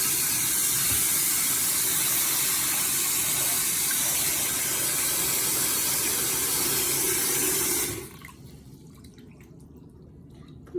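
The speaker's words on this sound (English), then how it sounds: "I'm gonna put them in hot water." Hot water runs with a loud, steady hissing rush while monkey noodle fidget toys are put in for cleaning, then the flow cuts off abruptly, leaving faint quiet rustling.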